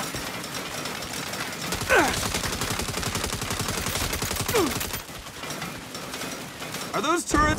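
Turrets fire in a video game, a dense sustained barrage of rapid gunfire rattling loudly and continuously, with a brief pause and a final burst near the end, mixed with game sounds.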